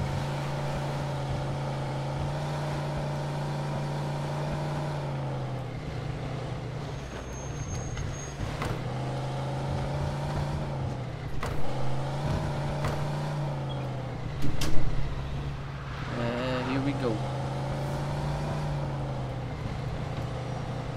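Car engine from the Mafia II video game, a steady low drone with rising and falling revs and some clunks as it drives, with no talk.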